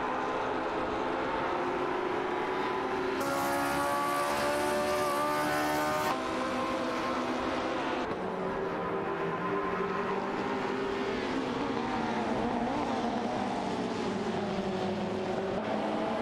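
Race cars overtaking in an AI-driven racing video game: several engine tones whine and shift pitch as cars pass one another, a layered, continuous drone with one brighter burst partway through.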